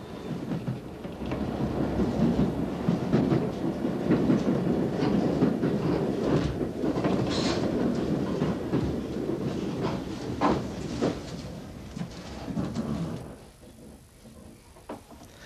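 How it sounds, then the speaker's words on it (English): A London Underground train on the Chalfont to Chesham shuttle line rumbles steadily and loudly close by, with rhythmic wheel clatter over the rails, easing off and fading near the end. "the Chalfont shuttle to Chesham still runs"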